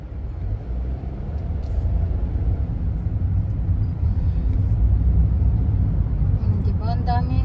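Heavy road traffic in Japan forms a steady, dense low rumble of many cars passing, heard from inside a vehicle, with a brief voice near the end.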